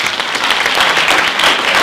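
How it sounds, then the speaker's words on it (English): Loud, dense applause from an audience at a university STEM festival closing ceremony, continuous clapping from many hands throughout. "Can we give them a round of applause?"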